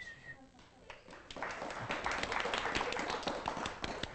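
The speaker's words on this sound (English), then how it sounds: "Applaud yourselves" Franklin County High School class serving as a studio audience on a cooking show, starting with faint speech, then breaking into a rising burst of applause that holds steady and fairly full, slightly distant.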